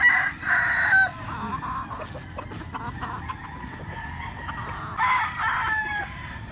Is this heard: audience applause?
no